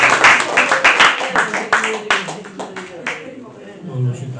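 Audience applauding after a duet, a burst of loud close clapping that thins into scattered claps and fades out, with voices talking over and after it.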